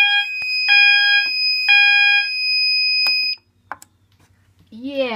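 A mass notification fire alarm system under test sounds in loud pulsing code-3 bursts of steady high tones, three beeps then a pause, before cutting off; brief clicks follow and a voice begins at the end.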